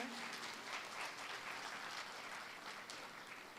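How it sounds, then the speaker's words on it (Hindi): An audience at a Kayastha community talent-honouring ceremony in Indore gives continuous applause, a dense, even patter of many hands that stays steady throughout. "जोरदार तालियां बजा के एक बार हम सबका स्वागत कर सकते हैं"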